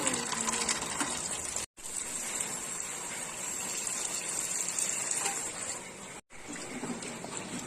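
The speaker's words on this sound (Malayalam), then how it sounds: "നാരങ്ങ നന്നായി ഒഴിച്ച് കഴുകുകയാണ്" Water poured steadily over lemons in a bowl for washing, a continuous close gushing splash broken by two brief pauses, with no talking.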